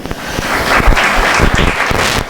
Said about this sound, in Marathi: हा टाळ्या वाजव तिच्यासाठी